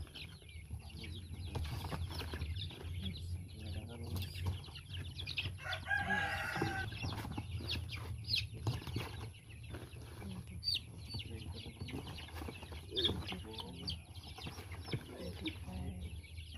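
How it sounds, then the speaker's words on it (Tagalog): Chickens cluck and a rooster crows amid a busy farmyard, with people talking nearby throughout. "Yan, dami na po tayo mga manok."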